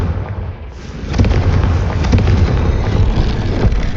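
A Confringo blasting spell detonates in Hogwarts Legacy, a sudden booming burst followed by a sustained rumbling, crackling roar that stays loud for several seconds.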